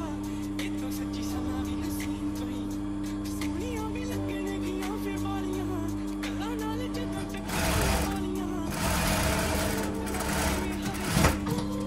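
A sewing machine stitches fabric for a lined kameez, running in a steady rapid mechanical patter throughout, louder and busier in the final few seconds.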